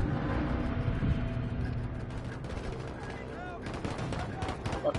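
Dense, continuous gunfire in the online shooter Battlefield V, with rapid bursts and heavier blasts layered over a busy battlefield din, loud and close throughout while a player talks over it.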